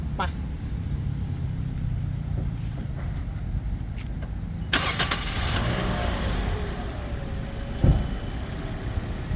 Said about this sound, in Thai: เดี๋ยวมาลองฟังเสียงเครื่องนะครับ ว่าจะหวานเจี๊ยบขนาดไหนนะครับ